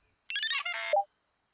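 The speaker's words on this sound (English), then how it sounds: "Oh, another phone call." A short electronic phone ring in a children's animated show, a quick bright melodic trill lasting under a second, clean and alone against silence.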